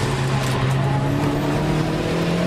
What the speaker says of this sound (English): Love the turbo sounds.